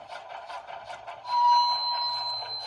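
Model Shay locomotive fitted with a TCS WOW sound decoder backs up, giving rapid rhythmic chuffs with a thin whistling tone over them. The sound swells midway and continues steadily, with no voices.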